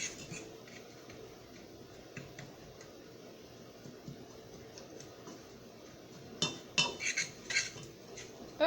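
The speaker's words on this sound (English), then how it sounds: "So break up your brown sugar chunks" Brown sugar chunks being broken up in a bowl for a fruit crisp: faint ticking taps for a while, then a short cluster of louder clinks and scrapes of a utensil against the bowl near the end.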